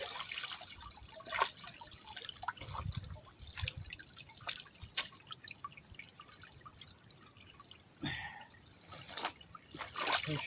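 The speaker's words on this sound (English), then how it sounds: "Get the water running." Water trickles and drips steadily into a muddy trap set outdoors, with small splashes and a fairly close, low-level sound throughout.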